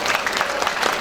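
Applause for Indonesia from a crowd of high school students at a school assembly in Jakarta, a brief burst of steady clapping filling the room.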